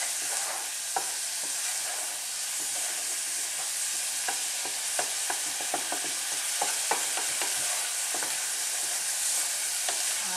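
A spoon scrapes and clacks through a pot of butternut squash curry, irregular stirring knocks over a steady, close sizzle, with no voices.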